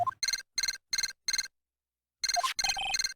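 A transceiver rings in Phoenix Wright: Justice for All, a bright electronic chirp repeating in four evenly spaced bursts, then a pause, then a faster, busier run of tones, alone and clear.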